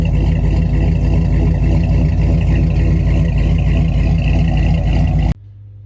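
A 1959 Plymouth Forwardlook V8 idles steadily up close, a loud, even low rumble with a slightly raised idle that runs without a break for about five seconds before cutting abruptly to a quiet hum.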